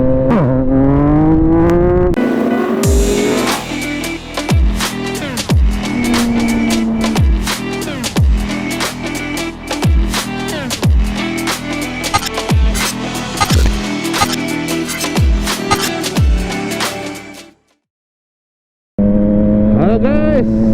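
A 2021 Yamaha MT-09 motorcycle being ridden, its engine loud and close, climbing in pitch with repeated revs and gear changes, then cutting out briefly before rising again.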